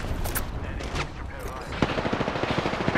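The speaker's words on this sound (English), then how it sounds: "I hear gunshots." Rapid bursts of Apex Legends gunfire crackle in a steady rhythm over a busy, noisy background, with a sharp louder shot partway through.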